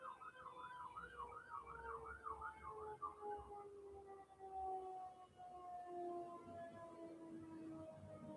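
Sirens wail faintly in the distance, a rising and falling tone that settles into a long steady note over low background hum.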